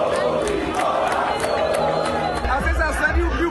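Santa Cruz supporters gather at night outside the Arruda stadium, a dense crowd chattering and shouting in a continuous festive babble, with some louder cries rising near the end.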